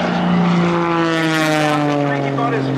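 A Pitts aerobatic propeller biplane drones overhead at an airshow with a steady, strong engine-and-prop hum that shifts slightly in pitch as it passes, while a commentator talks.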